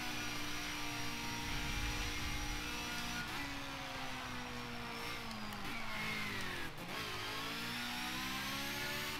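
Race car engine in Forza Motorsport 7, a continuous mid-pitched drone that climbs and drops through gear shifts and braking, loud and steady with no voices.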